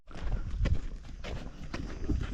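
Horses brought in from fields in Africa, their hooves clip-clopping in an uneven walking rhythm, moderately close and fairly quiet with a few heavier thuds.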